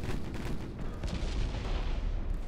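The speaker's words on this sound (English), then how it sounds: "Another explosion." Explosions and gunfire rumble through a naval warship video game battle as a short-hull, big-gun ship takes hits, a dense, continuous low boom filling the whole stretch without pauses.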